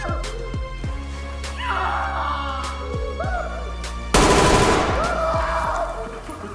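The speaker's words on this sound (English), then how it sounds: "I'm getting shot at from a suspect that is roaming around and was stressed out by me killing his buddy" In the tactical shooter Ready or Not, a suspect fires repeatedly. Sharp shots crack at irregular intervals, and a louder, denser burst of gunfire hits midway. A voice can be heard talking through the shooting.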